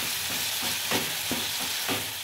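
Salted tomatoes cook in a pan with a loud, continuous close sizzle, broken by about four rhythmic stirring strokes.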